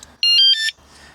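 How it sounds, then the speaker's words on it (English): A roof tent's security alarm gives a short electronic confirmation beep when locked: a bright, multi-tone chirp lasting about half a second, loud and close, alone in a quiet setting. "There's the beep that it tells you that it's locked."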